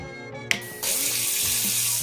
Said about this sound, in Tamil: என்ன சுவிட்ச் போட்டா பைப்ல தண்ணி வருது